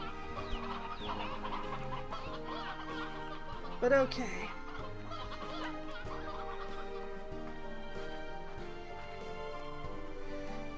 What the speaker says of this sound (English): Still too many roosters in this pen.